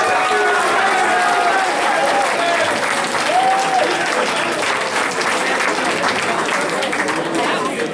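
A large audience claps and cheers in sustained, dense applause at a grad night hypnotist show, loud and steady throughout, with crowd voices mixed in.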